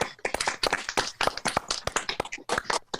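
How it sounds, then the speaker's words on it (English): Participants in an online adult improv acting class clap over a video call, a close, uneven patter of sharp individual claps that continues for a few seconds without a steady rhythm. "Let's give each other a round of applause because that was awesome."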